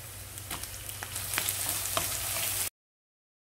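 Chopped tomato sautéing with onion, curry leaves and spices in a pan for Chettinad aviyal, a steady close sizzle with soft stirring scrapes, running for almost three seconds before cutting to silence.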